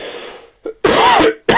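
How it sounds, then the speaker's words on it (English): Coughing from someone with a cold and asthma: a faint short cough, then a loud, harsh hacking burst lasting about half a second, and another strong cough starting at the end, all close to the microphone. "there's apparently a lot of coughing and stuff at the moment"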